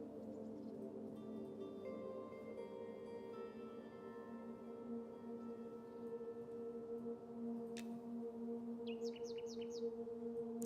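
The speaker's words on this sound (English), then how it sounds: "I heard a birdie chirp" Faint bird chirps in the fantasy game Monsters & Memories, a quick cluster of high tweets late on, over a steady tonal ambient drone with scattered soft calls earlier.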